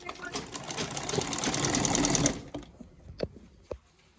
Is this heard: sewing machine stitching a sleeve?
yes